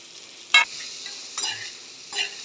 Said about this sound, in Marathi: भाज्या परतून घेते.